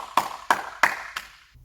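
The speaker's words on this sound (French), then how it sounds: "on peut s'applaudir tous très fort" A few sharp hand claps from parents and children at a home gym class, four distinct evenly spaced claps in a quiet room, close and fairly crisp, with no talk over them.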